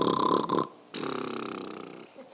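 A voice imitates snoring during a French children's story reading: a drawn-out, rasping inhaled snore, a short pause, then a longer breathy exhale with a rattling quality, close to the microphone.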